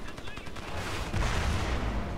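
Rapid gunfire from the shooter video game Crysis crackles loud and close, with bursts building in the second half over a rumbling low backdrop.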